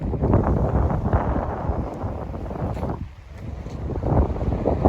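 Strong wind on a fishing pier buffets the microphone in a steady low roar, easing briefly before gusting hard again.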